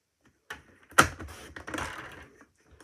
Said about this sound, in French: Donc je vais couper ces bandes.